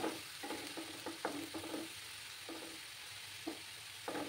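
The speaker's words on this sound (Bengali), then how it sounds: "পেঁয়াজ দুটোকে ভালো করে ভেজে নিতে হবে।" Ground onion paste frying in a pan for egg do-peyaja, a faint steady sizzle with intermittent stirring scrapes, quiet and without speech.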